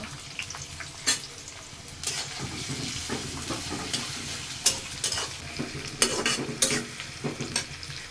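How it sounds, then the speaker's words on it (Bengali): Chopped onions sizzle and fry in a pan with cinnamon and cardamom while chicken is prepared, a steady crackling hiss broken by sharp stirring scrapes and clatters, close and with no talk. "আমার পেঁয়াজটা ভাজা ভাজা হয়ে গেছে"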